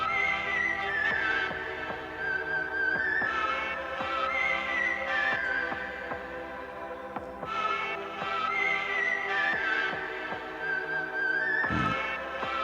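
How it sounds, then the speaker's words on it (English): A beat intro from an Akai MPC played through a radio-style EQ filter, thin and band-limited, with a steady rhythmic loop and punchy hits running continuously throughout. "And I really like the radio effect."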